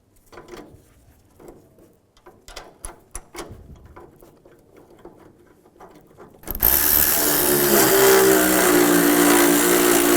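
Ratchet clicking in quick bursts as tailgate hinge screws are tightened on a 2007-2013 Chevy Silverado 1500 with a T50 socket, close and crisp, then a loud steady broadband noise takes over.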